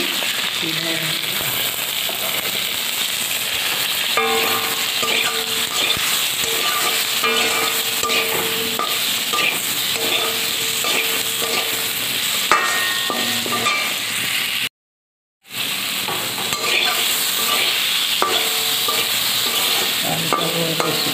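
Steady frying sizzle in a pan runs throughout, with occasional stirring clinks and scrapes and a brief dropout partway through.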